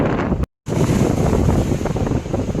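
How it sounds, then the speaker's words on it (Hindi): Strong sea waves surge and crash against the walls of a fort in the middle of the sea, a loud, continuous roar of surf and wind with a brief cut partway through. "ये जो लहरें देख रहे हैं ना आप, काफ़ी तेज़ आ रही हैं।"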